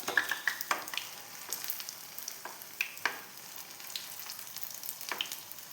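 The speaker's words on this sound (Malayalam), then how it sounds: "നല്ല അടിപൊളിയായിട്ട് പൊരിച്ചെടുക്കാം" Pineapple pieces fry in hot oil with a steady, fairly faint sizzle, dotted with sharper pops and crackles at irregular intervals and no talking.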